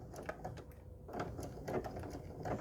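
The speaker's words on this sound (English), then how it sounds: "with machine embroidery like this, it's a lot easier to get nice, smooth, even embroidery with the smaller stitches in small areas like this" A standard domestic sewing machine stitches machine embroidery with small, reduced-length stitches, giving a quiet, steady mechanical whir and rapid needle patter that runs continuously on its own.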